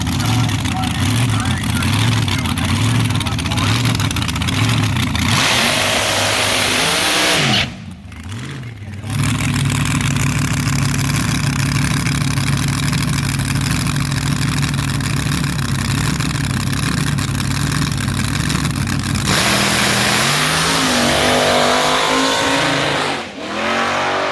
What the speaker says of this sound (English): As you can see, we had a good burnout and a very good launch.